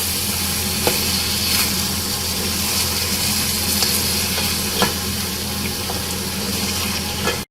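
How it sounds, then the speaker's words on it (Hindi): Beef, tomatoes and yogurt fry in a pot for beef yakhni pulao, a steady loud sizzle with occasional stirring scrapes and clinks, and no one speaks. "दही डाल के अगेन हमें इसे अच्छी तरह से भूनना है जब तक हमारी दही का पानी खुश्क नहीं हो जाता"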